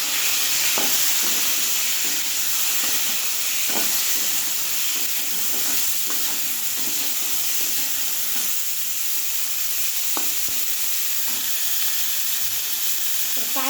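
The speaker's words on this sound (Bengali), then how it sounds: "হালকা করে একটু ফুলকপিটা ভেজে নেব" Cauliflower pieces sizzle steadily as they fry lightly in hot oil, a continuous loud hiss broken by occasional sharp clinks of a spatula stirring in the pan.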